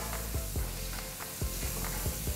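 Butter sizzles steadily as bread is fried and tossed in a pan over low heat, with repeated low scraping knocks of stirring at a steady rhythm, close and moderately loud.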